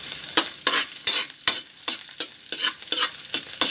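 Garlic sautéing in a pan for a shrimp dish, a close, steady sizzle broken by about a dozen quick scraping stirs in an uneven rhythm, with no voices.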